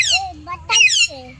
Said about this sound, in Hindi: वहाँ देखिए एक पहाड़ी तोता काफ़ी अच्छे से नेचुरल वॉइस अपना निकाल रहा है।